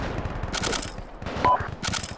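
Soldiers fire in Arma 2, heard as dense, loud bursts of rifle and machine-gun shots crackling in rapid clusters with brief pauses between volleys.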